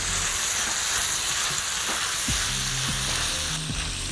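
Liver fries loudly in a pan, a dense, constant sizzle up close with a few faint clinks of a utensil beneath it, and no one speaks.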